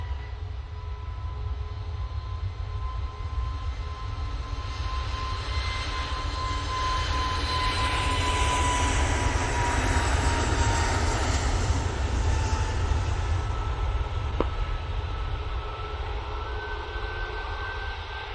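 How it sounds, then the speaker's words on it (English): An Airbus A321neo jet takes off for Malaga, giving a loud, sustained roar with a steady low rumble that builds slightly in the middle before easing off. "Off to Malaga they go with the A321 Neo"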